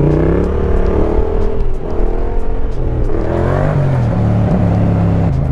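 A Yamaha MT-07 motorcycle engine revs hard and loud up close during a wheelie in second gear, its pitch rising, dipping and climbing again in sweeping strokes under a constant throaty growl.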